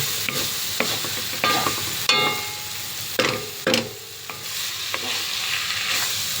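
Onion, garlic and beef fry in butter in a pan, a steady loud sizzle broken by repeated scraping stirs and clacks from a utensil, with no talking.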